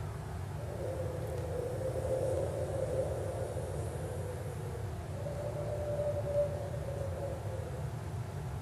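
Vocal beatbox imitation of wind performed live at a science festival stage in Baltimore: a steady, breathy rushing hiss with a low rumble, sustained evenly throughout with slight swells, no words spoken.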